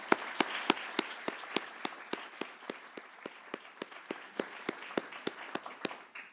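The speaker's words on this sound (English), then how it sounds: "so let's applaud them" A single pair of hands claps for competition organizers, sharp, evenly spaced claps in a steady rhythm of about three per second against a quiet room.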